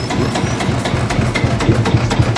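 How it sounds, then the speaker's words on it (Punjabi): Loud, close two-stroke engine of a six-speed Field Marshall tractor running with a rapid, rhythmic chugging pulse and low rumble, no voices. "to stock 6 speed field marshal ਇਹ ਟਰੈਕਟਰ"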